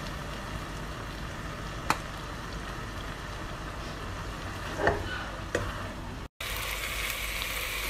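Minced pork for pad kra pao stir-frying in a pan gives a steady, close sizzle throughout, broken by a few sharp scraping clicks from the utensil, with no speech.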